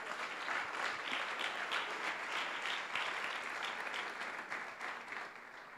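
A church congregation applauds, with many hands making a dense, sustained clapping that fills the room and tapers slightly toward the end.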